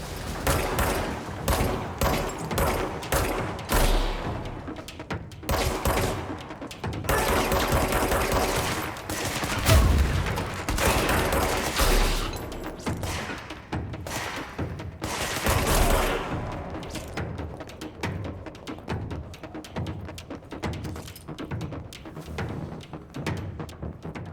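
A video game shootout fills the scene with sustained bursts of loud automatic gunfire and scattered single shots, near and relentless, with occasional heavy thuds between volleys.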